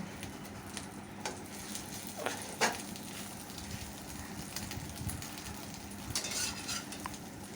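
Eggs fry in soybean oil in a wok, a steady close sizzle with a few scraping stirs and clinks of a utensil, continuing alone without speech.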